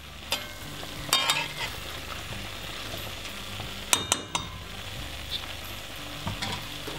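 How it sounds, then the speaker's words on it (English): Ackee and saltfish simmering in a pan, a soft continuous sizzle and bubbling close by, broken by a few sharp utensil clinks against the pan, with no one speaking. "Whilst your ackee is simmering away"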